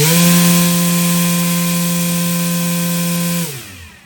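An RC electric motor spins an 11.5-inch three-blade folding 3D-printed propeller at full speed, giving a loud, steady buzzing drone. The drone holds for several seconds, then winds down quickly.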